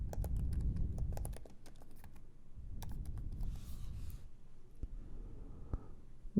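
Someone types on a computer keyboard, a fast run of soft, close clicks and key taps with short pauses between bursts, quiet and alone.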